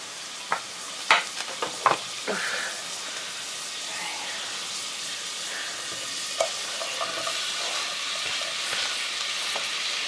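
Onions fry in a pan with margarine as the start of a sauce, giving an even hiss of sizzling, a few sharp clatters early on, and quieter stirring sounds afterward. Nobody speaks.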